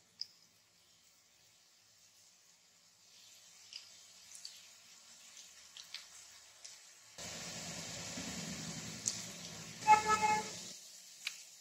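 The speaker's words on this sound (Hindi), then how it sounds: "तेल हमारा गरम हो चुका है, अब हम पकौड़ी बनानी शुरू करते हैं।" Potato pakodi batter dropped into hot oil in a home kitchen, starting faint and swelling into a steady broadband sizzle and crackle from about seven seconds, with a few sharp pops, no talking.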